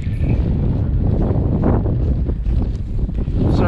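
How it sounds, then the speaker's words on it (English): Strong wind buffets the microphone on a frozen lake while ice fishing, a loud, rough, continuous roar with gusty surges throughout the short stretch. "Sorry about the wind, guys."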